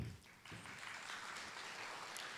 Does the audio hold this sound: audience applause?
yes